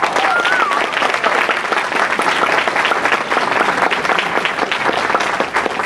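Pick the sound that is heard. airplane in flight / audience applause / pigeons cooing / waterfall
audience applause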